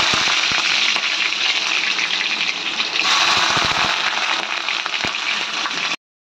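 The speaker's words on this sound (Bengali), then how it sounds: "তেলটা গরম হয়ে গেছে, এবার একটু জিরে ছেড়ে দিলাম।" Cumin seeds dropped into hot oil crackle in a loud, dense, continuous sizzle close by, with a few sharp pops, then cut off abruptly.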